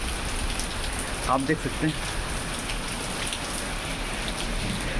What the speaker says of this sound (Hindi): अब तो केवल बारिश ही चल रही है।